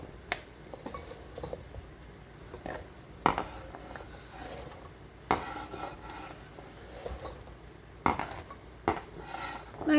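Cubed yellow pumpkin tipped into a metal cooking pot, with scattered clinks, knocks and scraping of a utensil against the pot, a few sharper clatters spaced irregularly over a quiet kitchen background.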